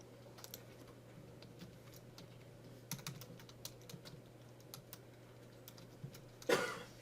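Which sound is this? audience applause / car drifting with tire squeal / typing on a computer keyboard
typing on a computer keyboard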